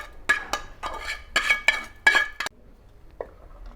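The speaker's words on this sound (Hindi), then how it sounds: "अब हम इसमें ब्राउन की हुई सेवइयाँ डालेंगे। ये ऐसे हम सेवइयाँ डाल देंगे," Browned vermicelli tipped into a pan of sweetened milk for Eid-style doodh sawaiyan and stirred, giving several close, bright clinks and scrapes of a utensil against the pan in short bursts, then quieter.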